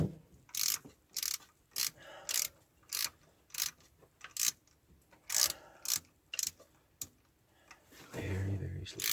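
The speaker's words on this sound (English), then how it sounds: "You need the wrench half the time, or most of the time." A ratchet wrench working on the fuel pump of a 1978 step-side truck, loud evenly spaced bursts of clicking with short pauses between, close up, ending in a low rumble.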